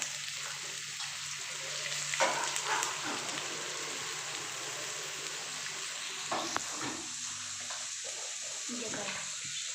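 Onions frying in a pan, a soft steady sizzle close by with a few brief clatters of stirring, quiet overall and without talk.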